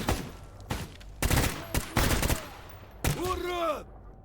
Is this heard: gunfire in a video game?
yes